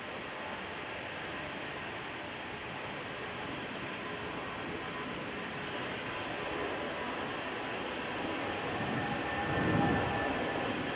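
An airliner on Schiphol's Polderbaan runway produces a distant, broad jet roar that swells gradually, with faint clicking noises over it.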